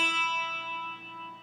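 A single note rings out on the upper neck of a 12-string guitar, its doubled strings giving a bright, shimmering chime that sustains and slowly fades, alone and close.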